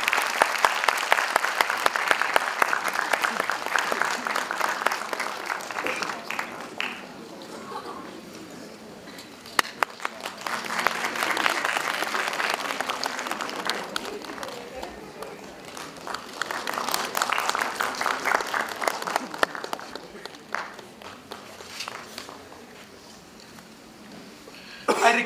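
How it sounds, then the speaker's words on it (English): An audience at a Constitution Day ceremony claps for a felicitated judge in waves of applause that swell and fade several times, moderately distant, with scattered coughs and footsteps between the bursts. "Can we please have a big round of applause?"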